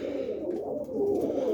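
Pigeons in a loft coo continuously in a close, low, throaty warble that swells slightly toward the end.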